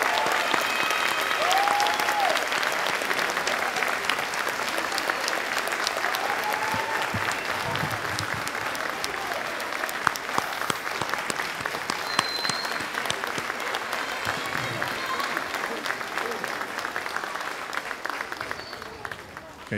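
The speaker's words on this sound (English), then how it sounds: "please give you a round of applause" Sustained audience applause for standing award recipients at a middle school academic awards ceremony, a dense steady wash of many hands clapping throughout, with faint voices mixed in.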